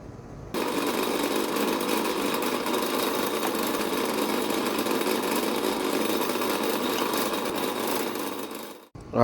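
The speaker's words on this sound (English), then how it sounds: "Alright, so I have all my holes drilled out, all the ones I'm going to do." A drill boring holes through knife blade steel, a steady loud whirring grind that holds almost constant for about eight seconds before winding down and stopping.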